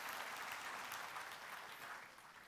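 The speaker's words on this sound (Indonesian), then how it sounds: "tepuk tangan dong saudara-saudara" A church congregation claps together in a steady, dense burst of applause that stays fairly even and faint for a couple of seconds before easing slightly.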